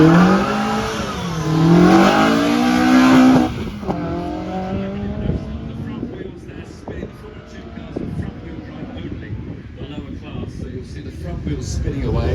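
A 1994 Opel Astra GT Group A rally car with a full works 2-litre engine revs up and down loudly, then settles into a steadier, lower engine note, with someone talking over it throughout.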